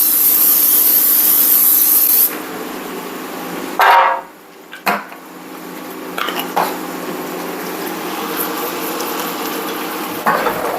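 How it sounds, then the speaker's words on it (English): Cooking spray hisses from a can into a pan for about two seconds, steady and close, before soft knocks and handling sounds of the pan follow. "we're going to give it a spray just to make sure nothing sticks."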